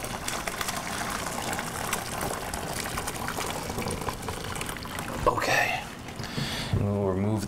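Pig-food slop poured into a container in a kitchen, a steady wet pouring wash for several seconds, fairly close, ending with a brief splash and then a voice speaking.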